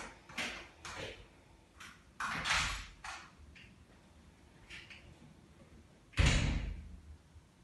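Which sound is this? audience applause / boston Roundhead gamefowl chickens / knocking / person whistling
knocking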